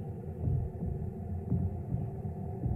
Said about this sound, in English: now we have the heartbeat as well in the background